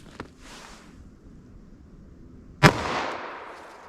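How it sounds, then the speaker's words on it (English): Single 10mm Auto revolver shot firing hard-cast solid ammunition outdoors, one sharp loud crack followed by a decaying echo, preceded by a faint click and light background noise. "Let's hit that with our 10 millimeter now. All right, 10 millimeter auto."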